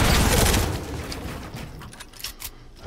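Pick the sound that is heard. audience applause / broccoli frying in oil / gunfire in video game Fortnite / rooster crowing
gunfire in video game Fortnite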